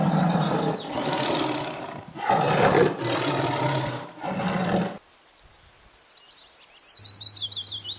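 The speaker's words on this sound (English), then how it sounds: "T. T for tiger." A tiger roars in several loud, rough bursts over about five seconds, followed by a quieter stretch with high bird-like chirps and a rapid pulsing tone near the end.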